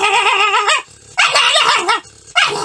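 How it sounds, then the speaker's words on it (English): A dog barks loudly and close, in three drawn-out, wavering yelps separated by short pauses. "dogs barking is really noisy and it causes troubles among neighbors"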